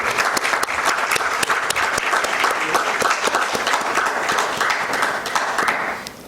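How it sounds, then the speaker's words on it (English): Steady applause from a seminar audience at a real estate event, dense clapping from many hands sustained for about six seconds before fading slightly at the end. "A round of applause, please."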